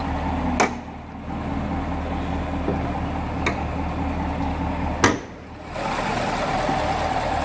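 Steady low rumble of a 2017 Camaro SS convertible's 6.2 liter V8, about 422 horsepower, idling close by, with a few sharp clicks and knocks over the even drone.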